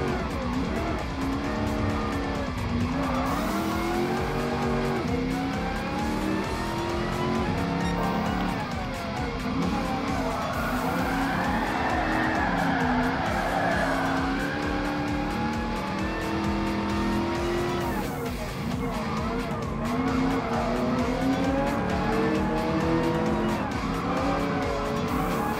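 Audi R8 racing past a Ford Mustang in Gran Turismo Sport, with a continuous loud engine drone that rises and falls through the gears, plus tire squeal and skidding across the whole stretch.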